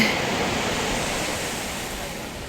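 Ocean waves on the beach at Kochi roll in as a steady, loud wash of surf, with some wind rushing across the microphone.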